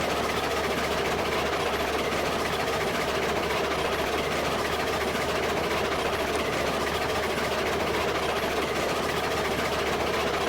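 Locomotive engine running in the train simulation game Railroads Online: a steady, dense mechanical roar with a low rumbling drone, continuous and unchanging for about ten seconds, with no talking.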